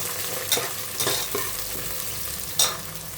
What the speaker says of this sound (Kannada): ಆನಿಯನ್ ಫ್ರೈ ಆಗಿದೆ ನೋಡಿ